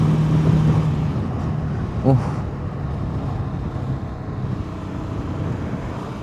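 A Voge 250RR motorcycle engine droning while riding on the road, a low steady hum under wind rush, with a brief sharp blip partway through as gears shift and a voice talking over it.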